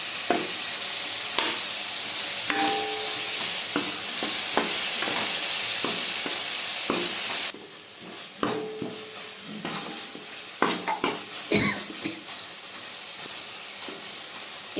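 Tomatoes sizzle in a pan of rasam as a ladle mashes them: steady frying hiss, then quieter stretches broken by scraping and pressing knocks.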